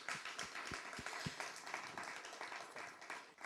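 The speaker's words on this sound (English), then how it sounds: "let's give him a round of applause one more time" A university audience gives a faint, distant round of applause, with scattered individual claps standing out at the start before blending into a steady wash of clapping.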